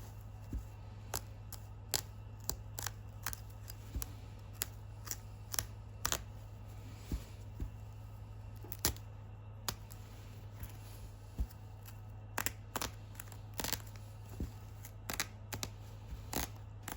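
An armrest being cut apart during a repair: a long series of sharp, close snips and clicks in an uneven rhythm over a steady low hum, faint overall, with no talk.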